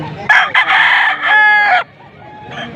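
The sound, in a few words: young rooster (stag) crowing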